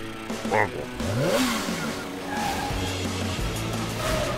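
A speeding cartoon car roars and revs during a chase on a highway, engine swells and whooshing effects up close, with a character's voice briefly over it.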